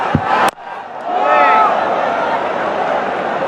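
Large stadium crowd roaring at a Pakistan vs Bangladesh T20 cricket match in Mirpur, a sustained loud wash of cheering that swells after a sharp bang, with commentary voices mixed in.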